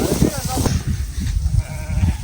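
A sheep bleats nearby in wavering cries while a person talks over it.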